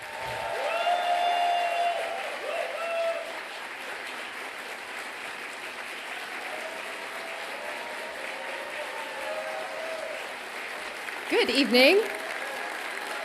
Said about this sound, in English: Another round of applause for the best superintendent in the entire country.